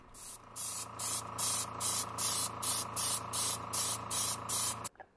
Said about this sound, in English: I use a water bottle to flush the gun between colors and spray until the right color is ready to spray.